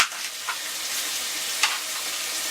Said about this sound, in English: At the same time as I'm rendering down the bacon, we can just add the mince.